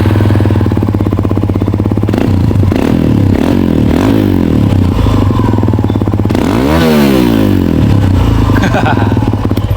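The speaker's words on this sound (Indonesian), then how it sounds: "cek sound knalpot Enzo Performance tipe free flow" Suzuki V-Strom 250SX fitted with an Enzo Performance free-flow exhaust idles with a loud, deep throb, then is blipped through several sharp revs and one longer rising and falling rev, close-up and alone.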